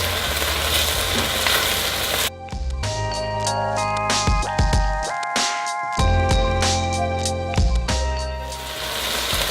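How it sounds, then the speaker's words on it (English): Garlic fries in a pot for chicken chili with a loud, continuous sizzle close by, while a utensil stirs and scrapes in irregular clinks and knocks throughout. "We're going to stir this around and let this cook for additional 1 minute."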